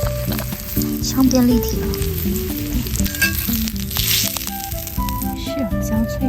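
An egg fries with meat over a campfire fire pit on a camping table setup, crackling and sizzling steadily at close range while a person talks over it.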